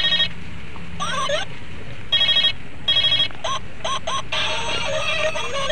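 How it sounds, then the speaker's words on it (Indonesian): A cartoon-style telephone ringtone plays in short repeated bursts of electronic trilling tones, loud and close over a steady background bed. "kakak ingin menelepon Kapten Amerika."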